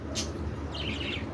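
Pet budgerigars chirp in a short burst of high, bright twittering over a steady low background hum, fairly close and not loud, with no talking.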